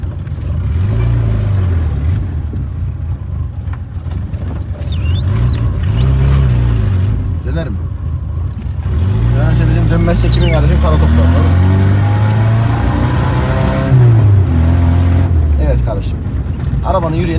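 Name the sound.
Tofaş Kartal SLX car driving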